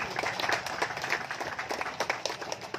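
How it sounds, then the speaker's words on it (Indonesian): Applause from an audience at a village environmental day gathering, a crowd clapping with distinct individual claps standing out, steady then loosening toward the end. "terima kasih, tepuk tangan"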